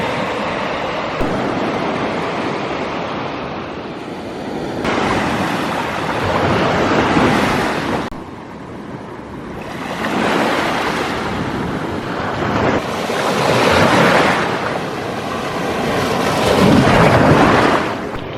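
Ocean waves surge and crash onto a beach in repeated swells while strong wind buffets the microphone, a loud roaring wash rising and falling every few seconds.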